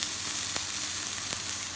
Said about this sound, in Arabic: بعدين بالنهاية راح أضيف له شوية ثوم تحمير